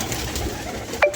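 A domestic pigeon, kept by a pigeon-flying hobbyist, gives a brief, close coo at the very end of a short stretch of steady background noise.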